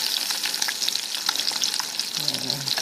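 Eggs frying in a pan on a cold, freezing day, giving a dense, steady sizzle and crackle of hot fat, close and fairly loud, with no talking.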